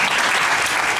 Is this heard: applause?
yes